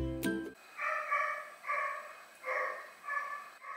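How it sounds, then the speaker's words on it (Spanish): A small dog barks at night in a home in Tampico, Mexico, giving four or five yappy barks at a moderate distance, evenly spaced, after a brief clatter at the start. "El perrito ladrador, a ver si podemos dormir."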